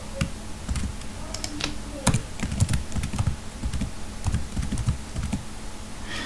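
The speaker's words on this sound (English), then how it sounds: "So I will type a div, and I'll type, let's say, 6 divs." Code being typed on a computer keyboard, with rapid irregular key clicks and taps running steadily and close up throughout, without any talking.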